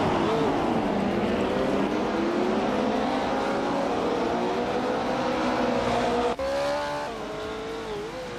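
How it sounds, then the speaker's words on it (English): Race cars in a racing video game roar past with rising and falling engine whines and a tire squeal, loud and steady, with a sudden cut to a quieter passing engine near the end. "Nuts and GM Prime are nose to tail for 7th place"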